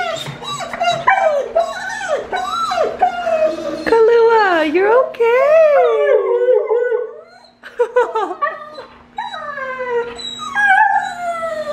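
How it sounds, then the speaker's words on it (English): A dog whines and whimpers in high, wavering cries, close by, while a person talks to it soothingly over the top. "What a whiny dog."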